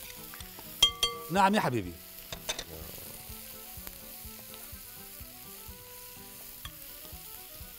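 Chicken pieces and sliced peppers with hot sauce and ketchup are stirred in a hot pan, giving a few sharp scraping clatters and a sizzle early on that fade to a faint simmer, with a brief voice speaking over it.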